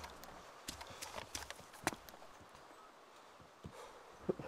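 A goat's hooves walk on an indoor floor near stairs, giving sparse, irregular hard clicks and taps at close range over a low background hiss, with no talking.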